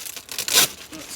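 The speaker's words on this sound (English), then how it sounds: "So I can just cut through the plastic." Plastic packaging on a Gelatinous Cube product being cut open, a brief sharp tearing rasp that peaks for a moment, close and loud.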